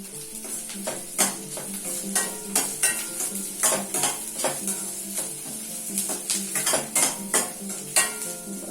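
Onion frying in a pan while being stirred steadily: rhythmic spoon scrapes and clanks against the pan repeat over a continuous sizzle, close and fairly loud.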